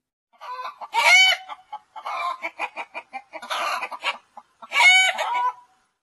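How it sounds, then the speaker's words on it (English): A hen gives a run of clucking calls in several loud bursts with short gaps between them, close and with no other sound around. "Hen."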